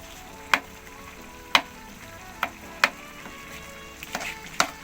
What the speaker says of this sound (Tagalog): Yung paghahalo po, ganyan-ganyan lang po natin sa ilalim para hindi po siya natututong sa ilalim.